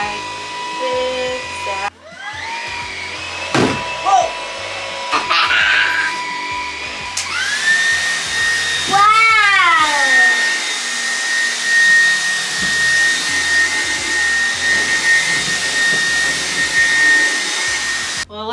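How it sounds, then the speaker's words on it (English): A vacuum cleaner whines steadily close by, its motor pitch rising and shifting as it starts and changes, with brief voices and thumps underneath. "Let's vacuum in here too."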